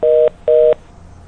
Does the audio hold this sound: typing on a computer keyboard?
no